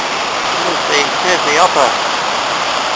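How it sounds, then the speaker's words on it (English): The upper section of the Nantcol waterfall gives a steady broadband rush of falling water. Someone talks briefly over it. "the upper section of this particular fall."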